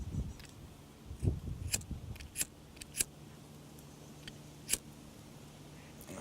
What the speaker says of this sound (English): So I'll trim it off, leaving about 3mm.